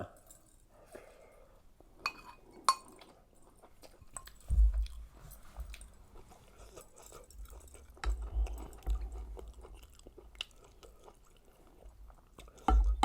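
Close, soft chewing and slurping of spicy Thai fish soup with fish belly, with occasional clinks of a spoon against a bowl and short bursts of low mouth noise, no talking.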